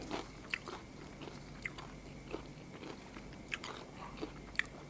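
Roasted peanuts are bitten and chewed close up, with quiet, irregular crunches and soft crackles repeating every half second or so against a faint, hushed background.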